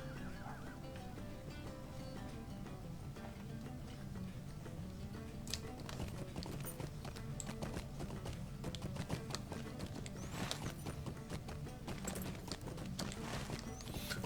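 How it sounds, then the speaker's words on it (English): Horse hooves clip-clop steadily as a mounted character travels in the Lord of the Rings Online video game, a continuous trotting rhythm layered over game music and ambience. "let's go ahead and pop on our horse here"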